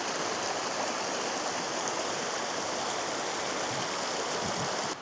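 Steady, dense rush of fast-flowing creek water in the White Mountains of Arizona during wet weather, loud and continuous with no pauses or voices.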